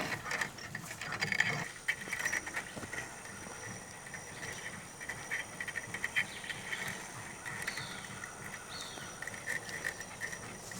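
Cable pulled off a rear-mounted Badlands winch drum in free spool while skidding logs in the woods, a steady ratcheting, clicking mechanical whir that runs continuously at moderate level with outdoor background and no talking.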